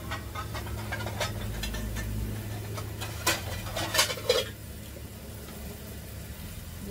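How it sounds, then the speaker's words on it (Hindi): Metal cookware clatters as a lid is set onto a cooking pot of black nightshade greens on a home kitchen stove, a few sharp clinks around the middle over a steady low hum, then quieter. "इसको अभी हम थोड़ी देर के लिए ढक के रख देंगे"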